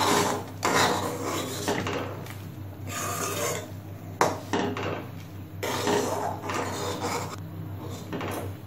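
Kaon millet payesh with milk and ghee is stirred in a pot, rhythmic scraping and rubbing strokes of a spoon against the metal, close and steady, without speech.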